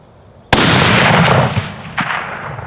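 A single loud 300 Win Mag rifle shot firing a 178gr Amax hand load at long range outdoors, a sharp crack followed by a long rolling boom and echo, then fainter thumps as it fades, with no voices.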